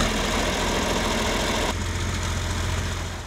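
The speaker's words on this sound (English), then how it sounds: "We have behind us a 1972 John Deere 4020 power shift." A 1972 John Deere 4020 Power Shift tractor idles close by, its engine a steady low, even chugging throughout with no talk over it.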